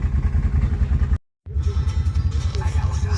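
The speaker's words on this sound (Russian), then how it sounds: "Потому что это баги открытого типа." An open-type buggy drives along with a loud, steady engine rumble and rattling, briefly cutting out before the engine noise resumes.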